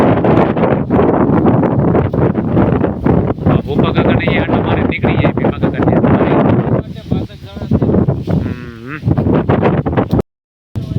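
Wind gusting steadily through a pigeon pea field during harvest, a dense rustling roar with microphone buffeting throughout, ending in a brief cut to silence.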